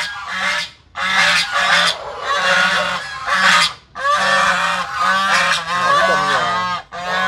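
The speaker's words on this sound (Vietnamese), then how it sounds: "Mấy bạn ngỗng này nó trong nhà dữ luôn, thấy người lạ là nó kêu" Domestic geese on a farm honk loudly and close by in a rapid, repeated series of harsh calls with only brief pauses, no talk over them.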